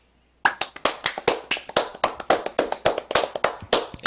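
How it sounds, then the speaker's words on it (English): A few people clap close to the microphone on a podcast, sharp distinct hand claps in a quick, slightly uneven rhythm that start abruptly after brief silence. "We should give Hunter a round of applause for that."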